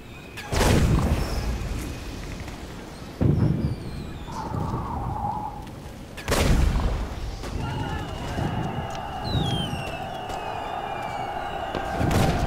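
Gunfire and explosions in the Toy Soldiers video game, with heavy booming blasts every few seconds and smaller shots in between, under a talking voice.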